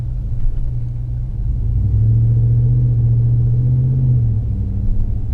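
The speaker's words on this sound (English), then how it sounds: "you can hear the truck just rolling, idling." A deep, rumbling Ram 1500 5.7L Hemi V8 pickup idles steadily nearby through a Gibson Performance exhaust, its low exhaust drone swelling slightly midway before settling back to a steady burble.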